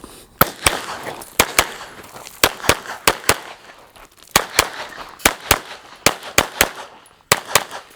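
A Glock 17 Gen 6 pistol fires during USPSA training while the shooter moves, in loud, sharp cracks grouped in quick bursts of two to four shots, about twenty in all, with short pauses between the groups.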